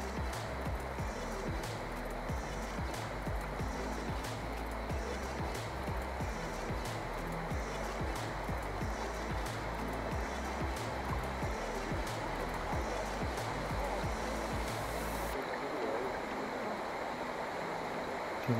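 Jump Creek Falls pours down steadily as a loud, continuous waterfall rush that fills the whole scene without any letup.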